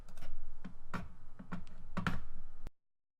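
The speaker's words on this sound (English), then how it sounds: "So I can just type in nav here." Keys clack on a computer keyboard in short bursts of close, crisp taps with brief pauses between, alone in a quiet room, ending abruptly.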